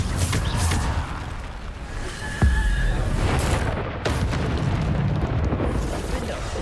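Bombarda spell explosions in Hogwarts Legacy, a run of booming blasts and bursts in quick succession over a continuous game soundscape, fairly loud and close.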